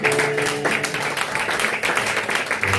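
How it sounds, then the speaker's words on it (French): A church congregation claps and cheers for Jesus, producing dense, loud, sustained applause with raised voices that fills the whole stretch without a break. "Acclame très fort Jésus."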